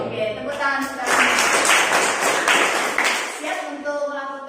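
A classroom group claps together in a short burst of hand claps, with voices heard just before and after.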